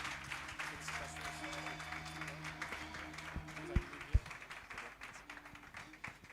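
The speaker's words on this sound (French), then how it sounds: "Ça s'applaudit" Applause from an audience at a youth convention church gathering, a soft diffuse patter of clapping spread across the room with a couple of sharp louder claps, fairly quiet and distant, with faint voices underneath.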